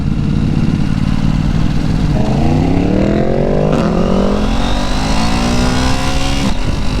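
A KTM Duke 890 motorcycle engine heard loud and close while riding, a continuous throaty drone that climbs in pitch as it revs up, then steadies, with wind rushing underneath throughout.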